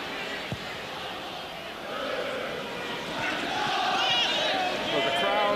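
Anxious football crowd at Villa Park, a dense steady roar of massed voices swelling gradually, with commentary talk over it.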